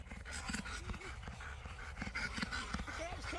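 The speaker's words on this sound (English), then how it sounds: "Look at this dog. Look at him." A dog pants in quick, close, breathy bursts indoors, with some whimpery sounds mixed in, while people talk in the background.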